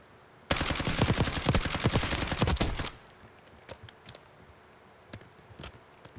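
Rapid automatic gunfire from Call of Duty: Warzone rattles in one loud sustained burst lasting a couple of seconds, followed by a few scattered single shots and quiet ambience.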